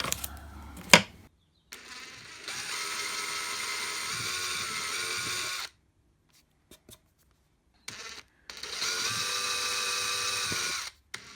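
A drill press bores a hole through a part during an enclosure build, two long steady whining runs of several seconds each, separated by a short silent pause and a few sharp clicks and knocks, close up with no talking.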